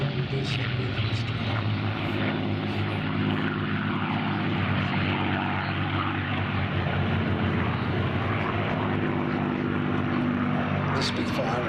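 A Supermarine Spitfire with a Griffon engine drones steadily overhead at an air show, its propeller engine loud and continuous for the whole stretch, while a commentator talks over it.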